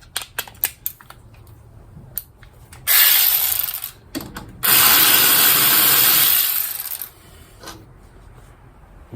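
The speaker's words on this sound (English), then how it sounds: "I want to put that on the power ratchet." A power ratchet works on the axle of a 1997 Honda Civic, giving two loud sustained whirring runs, the second longer, between scattered metallic clicks and clanks close by.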